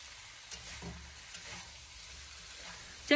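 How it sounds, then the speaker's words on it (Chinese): Chicken pieces pan-fry on low heat, a soft steady sizzle with a few faint scrapes as a spatula turns them, then a sharp clatter of the spatula at the very end. "我们开小火将底下的这一面煎至微微的金黄焦香了，然后用锅铲给它轻轻的翻动"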